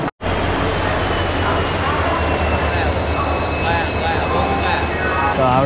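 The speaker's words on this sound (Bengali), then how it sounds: "তো আমার ট্রেনে বোর্ড করে নিই, ট্রেন চলে এসেছে প্ল্যাটফর্মে।" Train pulling into a station platform in India, a loud continuous rumble of wheels on rails with a high steady whine and faint squeals throughout.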